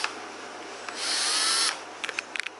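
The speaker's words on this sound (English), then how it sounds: "when you drill a hole, it doesn't move everywhere and you get a nice perfect hole" A handheld power drill bores a hole while a custom wing for a Chevrolet Silverado is built, with a short whining burst of drilling followed by a few sharp clicks and taps.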